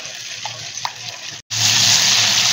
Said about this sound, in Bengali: বড় বড় করে যে জিঞ্জার বা আদাটা কেটে রেখে দিয়েছিলাম সেটা ভাজার জন্য দিয়ে দিলাম ওই তেলের মধ্যে